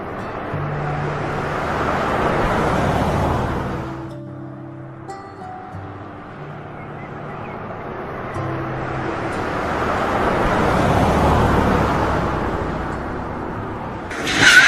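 A car on the road to Jaisalmer drives with a steady rushing roar, quiets to a low idle with faint tones, swells again as it moves, then cuts out at a stop.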